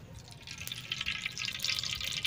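Cooking oil pours into a pan with a steady, fairly loud hissing trickle that runs throughout, bright and splashy, with no talk over it.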